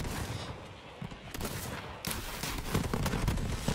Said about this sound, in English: This is a grenade launcher?